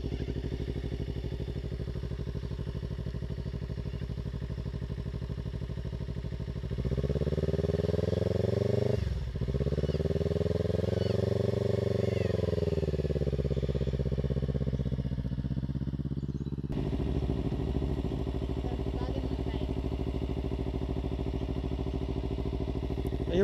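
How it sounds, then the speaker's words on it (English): A motorbike idles steadily as a learner rider sits on it, then the engine revs up and holds a higher, rising pitch for several seconds before dropping back to a rough idle, close and loud, with no talking. "Just rev it more and go a bit faster."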